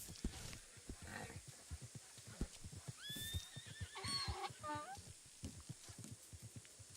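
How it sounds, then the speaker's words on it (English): A donkey brays in a Red Dead roleplay video game, a run of harsh, wavering honking cries in the middle of the clip, heard together with hoof clops and game ambience. "the donkey's fine. It's just the noises it makes are very,"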